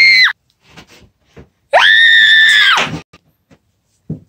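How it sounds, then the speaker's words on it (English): Loud, sustained cartoonish screaming in a garage setting: a short shriek, then a long held scream of about a second and a half, with scattered knocks and thuds around it and no speech. "I hear screaming."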